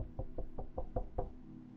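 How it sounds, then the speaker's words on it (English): Six soft, evenly spaced knocks land on a bathroom door, quiet and close, with the faint hiss of a running shower behind them. "knocked gently"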